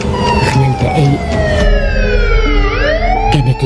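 A police car siren from an animated horror story wails loudly and close, its tone sweeping down and rising again in a continuous cycle.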